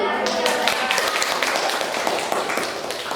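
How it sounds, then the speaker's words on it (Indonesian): A classroom of students claps together at the close of a group presentation, a steady, dense burst of hand claps filling the room for a few seconds. "Tepuk tangan."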